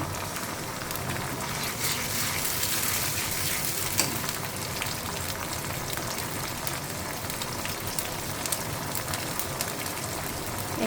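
Green chili paste fries in hot oil with a steady, soft crackling sizzle like light rain that stays even and unbroken throughout, with no talk.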